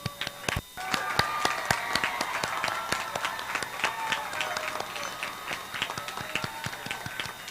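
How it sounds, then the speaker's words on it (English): Graduates and audience at a high school commencement ceremony clap in a steady round of applause, with sharp individual claps standing out over a crowd murmur and voices talking throughout. "Round of applause for us, guys,"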